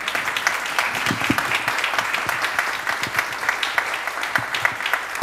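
Cinema audience applauding a film director after a screening, a steady burst of many hands clapping with some sharper individual claps standing out.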